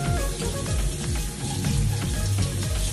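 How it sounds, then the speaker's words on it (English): Water runs steadily from a tap and splashes in a kitchen sink as dishes are rinsed, a continuous close hiss with no speech. "And then rinse."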